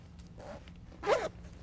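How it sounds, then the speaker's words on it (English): A zipper on a Leather Craft Seat Skinz leather car seat cover is pulled open in two close strokes, a soft short rasp followed by a louder, longer one over a low steady background hum. "We're also going to spread this zipper apart."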